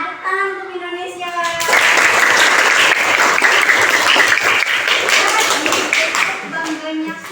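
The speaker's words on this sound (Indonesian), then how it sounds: "Tepuk tangan untuk Indonesia." Loud, dense applause from a class of schoolchildren breaks out after a short spoken lead-in and fills several seconds, then fades as a voice returns; teacher speech is heard before and after the clapping.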